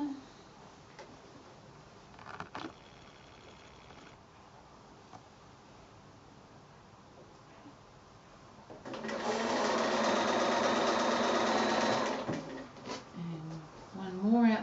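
A sewing machine stitches through the front and back of quilt binding on bunting made from 2 1/2-inch fabric strips. A loud, fast burst of stitching runs for a few seconds near the end, with quiet handling sounds and some talk around it.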